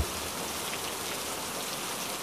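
Steady rain pours down in a cartoon scene, a continuous, even hiss of falling water with no breaks, fairly soft and heard alone without any voices.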